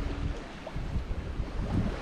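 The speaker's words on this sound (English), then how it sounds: "We're sailing, we have around 13 knots of wind." Wind buffets a sailboat moving at about six knots on the Mediterranean in rough weather with around 13 knots of wind, a steady close roar of gusts and water wash with microphone rumble.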